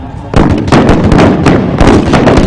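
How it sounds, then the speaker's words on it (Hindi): Booming artillery fire at an Indian Army Day battle demonstration, a loud, dense barrage of repeated blasts and cracks overlapping each other continuously, with no talking. "The artillery fire is on"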